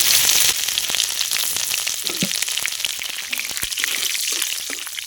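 Chopped ginger, bay leaf and cumin sputter in hot oil, a dense, bright sizzle with scattered pops and crackles that holds steady throughout.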